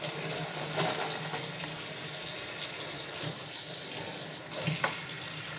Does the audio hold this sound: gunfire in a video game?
no